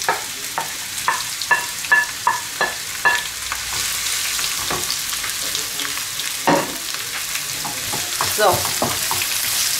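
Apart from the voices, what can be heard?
onion and bell pepper frying in oil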